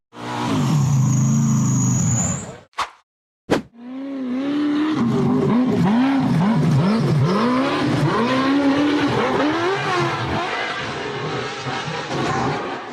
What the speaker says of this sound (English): The buggy numbered 502 accelerated hard up a steep rocky slope